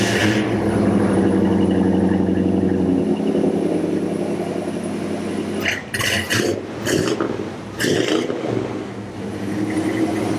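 A built LS V8 engine in a hot rod car fires up and settles into a steady loud idle, with a few sharp clinks and bursts partway through.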